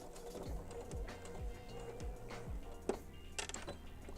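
Sewing machine stitching across earlier stitching on a pants waistband during an alteration, a steady rhythmic mechanical chatter of needle strokes with small clicks, close and moderately loud, no voices.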